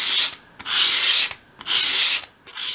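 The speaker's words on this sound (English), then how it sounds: "as you sweep it towards you, keep it in that position" Sandpaper rubs a sharp bevel along the edge of a small wooden piece for a 1/12th scale dolls house cupboard, in three long, steady strokes with short pauses between them, close and fairly loud.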